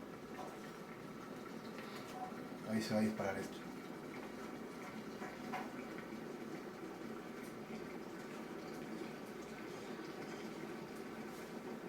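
Water heats toward a boil inside an electric kettle, a soft steady bubbling hiss running throughout, with a brief louder rattle near the start, while someone talks over it in Spanish.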